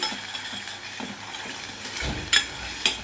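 Salted puree for a village-style mutton rassa stirred and fried in a pan, a low steady sizzle with soft scraping and two sharp utensil clanks near the end, no talking.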